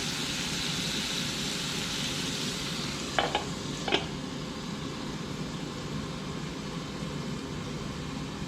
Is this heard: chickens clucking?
no